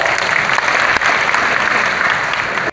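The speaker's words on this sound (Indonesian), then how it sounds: "boleh tepuk tangan dulu?" Loud, dense applause from a symposium audience fills the whole stretch as a steady unbroken roar of many hands clapping together, then cuts off abruptly at the end.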